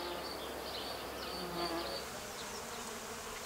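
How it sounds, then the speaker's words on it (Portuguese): Insects buzz around flowering kale plants grown for seed, a continuous soft hum of bees and flies at moderate distance, with no talking. "Os insetos são os vetores de polinização."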